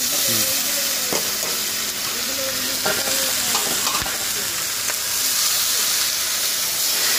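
Taro flowers tipped into a hot pan of fried onion and garlic in a village kitchen, bringing a loud, continuous sizzle with scraping stirs and a few sharp spatula knocks.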